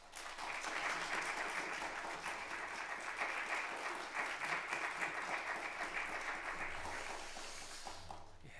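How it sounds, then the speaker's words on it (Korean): Warm, continuous applause from a church congregation at a New Year revival Sunday service, a steady blanket of clapping from many people that holds for several seconds before tapering off at the end. "우리 박수 한번 했으면 좋겠습니다"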